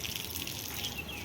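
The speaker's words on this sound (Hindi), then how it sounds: "इसमें पानी डाल रहा" Water is poured steadily into a container on a rooftop, a brief continuous gushing splash at close range with no voices.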